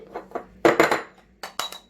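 A few sharp taps and cracks against a hard bowl, followed by clinking, close and fairly quiet.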